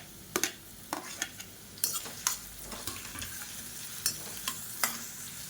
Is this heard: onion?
yes